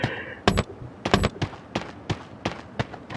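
Rapid bursts of video game gunfire crack out in a ragged series of sharp, loud shots, some doubled, spaced irregularly across the moment with no talk over them.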